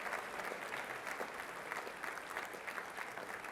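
A luncheon crowd at Music Hall for the Good Scout Award applauds the serving staff with dense, even clapping that stays fairly soft and somewhat distant throughout, with no voices over it.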